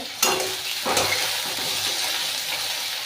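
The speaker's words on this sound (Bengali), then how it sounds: "আলুটা ভাজা হচ্ছে" Potatoes sizzle steadily in hot oil in a pan, with a couple of sharp stirring clatters early on over a constant bright hiss, close and moderately loud with no talking.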